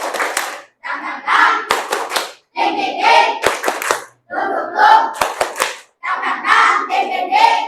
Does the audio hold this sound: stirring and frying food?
no